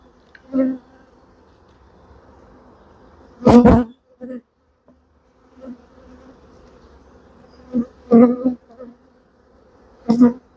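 Honeybees hover around an open hive during a swarm inspection, and their buzzing rises in several brief, close, droning bursts that come and go between quieter stretches.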